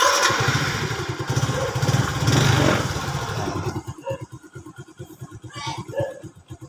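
A motorcycle engine cranks with a rough, loud starter whir for several seconds, then catches and settles into a nearby pulsing idle.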